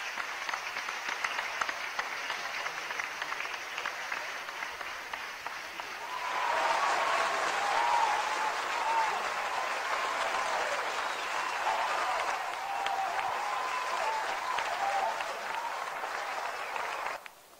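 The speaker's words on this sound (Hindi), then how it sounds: "आइए हम सब भी सहभागी बनेंगे माननीय मुख्यमंत्री जी के इस कार्य में अपनी जोरदार तालियों के द्वारा।" A large crowd at a public event with the Madhya Pradesh Chief Minister in Khargone breaks into sustained applause, a dense steady wash of clapping that grows louder partway through and carries on at length.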